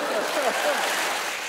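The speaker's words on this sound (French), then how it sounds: "Applaudissements" An audience at a Quebec comedy club show claps in a brief, steady burst of applause, with a voice speaking over it.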